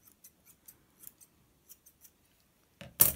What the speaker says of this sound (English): I could take the thinning scissors and just thin round them